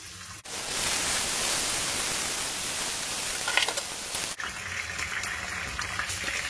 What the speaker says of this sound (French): l'huile est chaude. Donc, je plonge de ce côté-là ma morue.